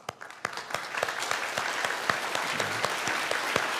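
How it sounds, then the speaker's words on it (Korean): A church congregation at a Sunday worship service claps to welcome a first-time visitor, producing dense, steady applause from many hands in a reverberant hall that builds slightly and carries on throughout. "잠깐 일어나시면 우리 박수로 환영하도록 하겠습니다"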